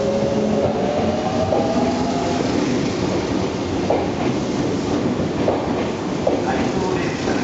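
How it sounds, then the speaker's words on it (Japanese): A Tobu 20050 series out-of-service train departs Tobu-Dobutsu-Koen station, rumbling and rattling steadily nearby, its wheels clacking in an even rhythm with a constant roar and faint squeals. "回送電車が発車します。"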